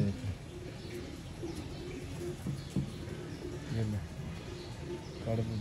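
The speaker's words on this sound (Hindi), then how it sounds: "ये कबूतर है" Pigeons in a Sialkot loft coo in repeated low, throaty phrases, mid-distance, while someone talks over them.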